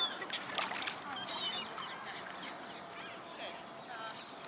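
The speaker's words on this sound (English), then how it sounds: "And the Canada geese are here too." Canada geese honking at a palace grounds in December, a few calls rising over steady outdoor ambience, moderately distant and fairly faint.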